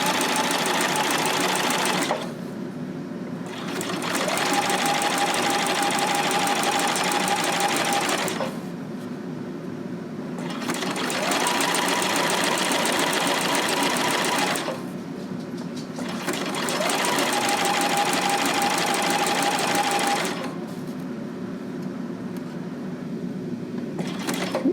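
A sewing machine stitches elastic onto a fabric piece, running in four long steady bursts of loud mechanical whirring separated by brief pauses.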